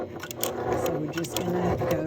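A home sewing machine stitches a strap cut from upcycled denim jeans for a double-pocket purse, running in a rapid mechanical whir with short stops for a backstitch, close up.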